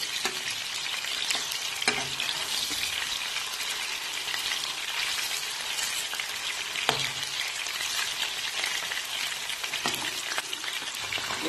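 Gola kababs fry in hot oil, giving a continuous loud crackling sizzle with occasional soft knocks and spatters as they are turned, steady and close for the whole stretch.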